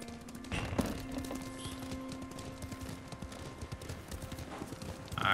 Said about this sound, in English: Mount my horse, my trusty steed.